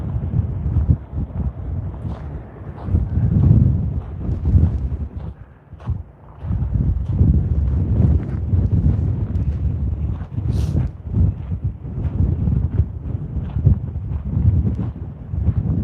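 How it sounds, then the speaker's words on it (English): Wind gusts across the top of Glen Canyon Dam and buffets the microphone in low, rumbling waves, loud and continuous, with a brief lull midway. "The wind is really coming up here."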